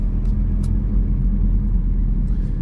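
A lowered Volkswagen T4 van with freshly changed rear brakes pulls away on a test drive, its engine a steady, loud low rumble heard from inside the cab.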